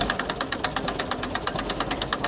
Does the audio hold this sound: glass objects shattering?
no